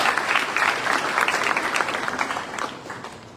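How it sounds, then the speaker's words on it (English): An audience at a college technical campus event gives a warm round of applause, loud, dense clapping that gradually thins and softens over a few seconds. "huge round of applause"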